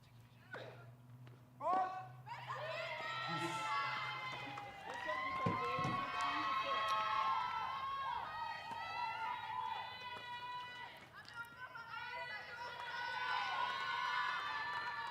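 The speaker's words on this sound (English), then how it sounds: "Once again, such an enthusiastic crowd." An enthusiastic crowd at a Billie Jean King Cup tennis tie between Morocco and Kenya keeps up sustained cheering, shouting and whistling, loud and continuous, with a commentator's voice briefly heard near the start.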